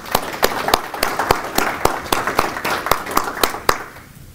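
Applause for military veterans at a Veterans Day ceremony, heard as distinct, evenly spaced loud claps in a steady rhythm, close and sharp over a faint murmur of background clapping, stopping abruptly near the end.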